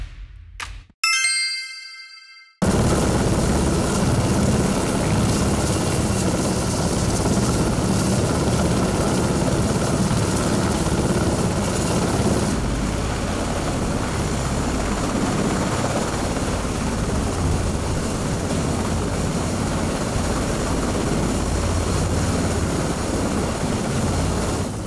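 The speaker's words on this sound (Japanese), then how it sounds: "荒波に揺れる護衛艦甲板との距離を慎重に縮めていきます。" A helicopter lands on a destroyer deck at night, its rotor and engine producing a loud, continuous roar after a few short metallic dings at the start.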